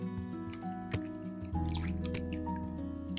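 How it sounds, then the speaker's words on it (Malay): Evaporated milk poured into melted chocolate ganache, giving soft dripping and squishy liquid sounds over a steady background hum with tonal lines, fairly close and low in level. "Tutup api dan boleh tuang susu cair."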